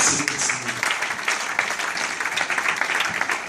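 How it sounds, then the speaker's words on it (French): A crowd at a church youth conference in a hotel claps and cheers steadily, a dense, loud roar of applause sustained throughout with no break. "Acclamons un peu le roi de roi."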